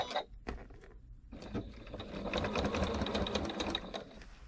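A sewing machine stay-stitches a fabric piece for a hexagon project, with a few short needle bursts followed by a steady run of close, rapid rhythmic stitching and no talking.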